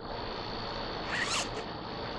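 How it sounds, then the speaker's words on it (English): A zipper on a mesh insect covering over a tomato plant in a garden is pulled once in a single quick close-up stroke. "just untie it here and zip up the mesh covering"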